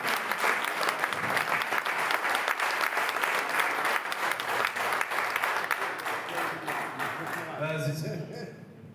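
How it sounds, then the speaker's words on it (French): An audience at a Kabyle cultural open day applauds the artists, sustained, loud and dense clapping that runs steadily for several seconds before thinning out at the end, with a voice faintly present underneath. "je vous demande d'applaudir tous les artistes de ces années-là"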